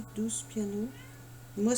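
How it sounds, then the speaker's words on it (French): A pet cat meows in a crying, baby-like way, several short close calls in a quiet room with a low steady hum, while someone talks over them. "c'est mon chat qui me pleure comme un bébé ce matin"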